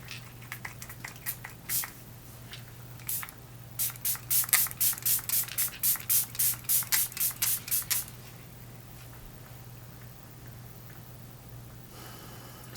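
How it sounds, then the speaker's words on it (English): A makeup setting spray bottle's mister pumped repeatedly, a few scattered spritzes and then a fast run of about a dozen crisp, close hissing sprays, alone in a quiet room. "Hopefully this has a really good sprayer on it because it unscrews"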